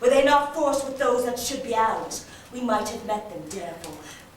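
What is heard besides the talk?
None of the usual background noises is heard.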